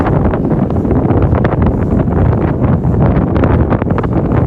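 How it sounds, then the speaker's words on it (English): Strong wind on a cold night in New York City buffeting the microphone, a continuous loud rushing roar with gusty fluctuations and no voices. "A little windy out tonight, but not too bad."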